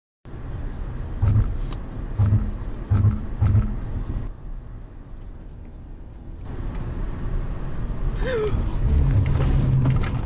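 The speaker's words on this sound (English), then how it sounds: "As their car continues down the dark road, this happens." A car travelling down a dark road at night, its engine and tyre rumble droning steadily and close, with a few brief thumps early on and the road noise swelling louder toward the end.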